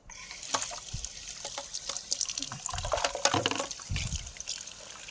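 Tap water running while something is rinsed under it, a steady splashing stream with irregular louder splashes and knocks, close by and alone without talk.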